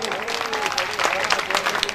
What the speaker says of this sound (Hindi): उपाध्याय जी के लिए जोरदार तालियां, जोरदार तालियां।